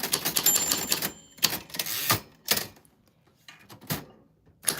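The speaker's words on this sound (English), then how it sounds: "That's what your name sounds like on a vintage typewriter" Vintage manual typewriter typing out a name, with bursts of close key clacks separated by short pauses and a few louder carriage or bell-like knocks.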